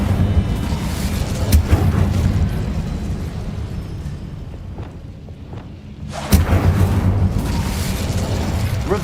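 An Incendio fire spell cast in Hogwarts Legacy, a loud whooshing burst of flame that fades into a quieter lull before another bright burst flares up near the end.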